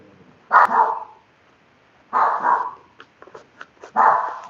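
A dog barks nearby in three loud bursts, with a few short yips between the second and third, and quiet pauses in between.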